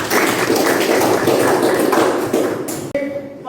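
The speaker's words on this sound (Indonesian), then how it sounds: "Berikan aplaus buat rekan kita." A group claps for a colleague during a teacher-training class session, giving dense, steady applause that fades and cuts off abruptly, followed by a brief moment of near quiet.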